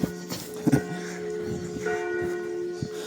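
Church bell ringing in the background of a quiet street in the spa town of Truskavets, with a few resonant strikes under a steady low hiss and no talking.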